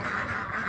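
Ducks quacking continuously, a busy overlapping chorus of nasal calls, fairly close and steady throughout.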